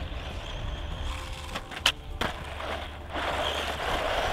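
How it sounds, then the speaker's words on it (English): A WLToys 144011 RC car running over gravel and jumps outdoors, with a steady rough rumble of tyres and motor, a couple of sharp knocks from landings in the middle, and a louder gritty crunch toward the end. "Let's see how it handles the gravel here"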